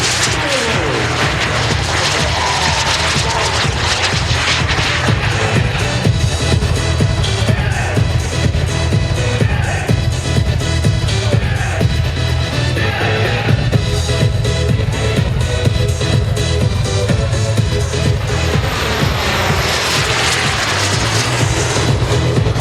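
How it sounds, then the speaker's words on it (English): Jet aircraft fly an aerobatic display at an airshow. Loud, continuous engine roar rises and swells as they manoeuvre overhead and holds throughout with no pause. "There's a lot of rudder now to spin the jet out."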